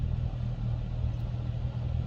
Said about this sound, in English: You can hear the exhaust note change there.